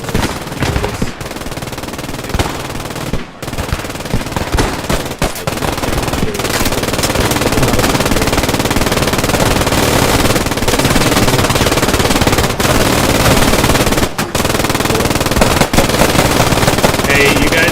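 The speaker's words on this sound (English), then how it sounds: "Johnson LMG firing" A Johnson LMG machine gun in the video game Squad 44 fires long, loud, close bursts of rapid shots, broken by a few brief pauses, with heavy gunfire continuing almost without a break.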